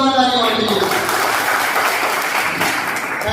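Audience applause at a business plan seminar in Firozabad, a dense steady clapping that follows a brief stretch of speech and continues evenly at close range.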